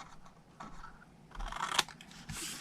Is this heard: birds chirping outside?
no